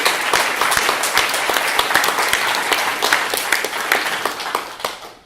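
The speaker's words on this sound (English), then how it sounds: "let's give a round of applause to all of those folks who spoke today" A conference audience applauds, with dense steady clapping for about five seconds that fades out at the end.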